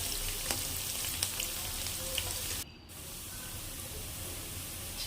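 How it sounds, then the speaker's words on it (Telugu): Onions frying with turmeric in a pan give a steady close sizzle and hiss, with a brief dip in the middle before the frying noise picks up again. "ఉల్లిపాయలు బాగా వేయాక కొద్దిగా పసుపు వేసుకున్నామంటే తొందరగా ఉల్లిపాయలు వేగిపోతాయి."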